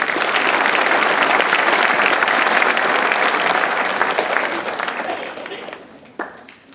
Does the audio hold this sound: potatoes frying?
no